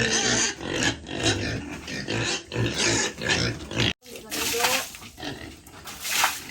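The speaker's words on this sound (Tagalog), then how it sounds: "Ano mga piggy, gutom na kaya?" Pigs on a farm grunt and squeal in loud, repeated bursts close by, mixed with a person talking over them throughout.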